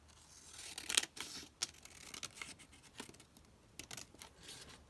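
Scissors snip through paper for a glue book journal collage page, giving a quiet close-up series of crisp cuts and rustles spaced irregularly over a few seconds.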